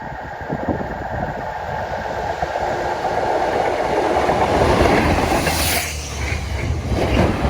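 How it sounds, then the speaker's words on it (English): A railhead treatment train rolls past at North Howden and Brind, a loud continuous rumble with rhythmic wheel clatter and a brief higher squeal near the end, heard outdoors with no voices. "It's the railhead treatment train."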